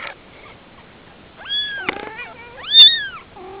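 Newborn kittens, whose eyes are just opening, give several high, wavering meows close up, separated by short pauses, with one louder, longer cry near the end.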